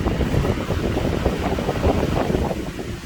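An air cooler's fan blows air in a room, a steady close whooshing rush with a low rumble and no talk over it.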